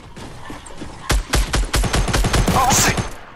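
Rapid pistol gunfire in a video game, a burst of sharp, loud shots in quick succession over roughly two seconds, following a quieter stretch of game ambience.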